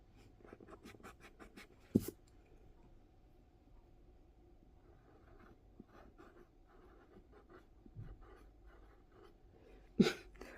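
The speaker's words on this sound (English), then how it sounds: "Whoops, I have to write down the English." A pencil or pen scratches out words by hand on paper during a quiet Latin lesson, soft irregular strokes in short bursts, close and faint, with a couple of sharper taps and no speech.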